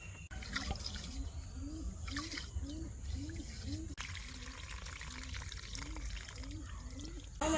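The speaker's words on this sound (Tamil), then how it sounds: "நல்லா அலசி கழுகிக்க போகிறோம்" Basmati rice is swished and rinsed in water by hand, giving faint, regular sloshing and trickling pulses at a steady rhythm, recorded quietly and close.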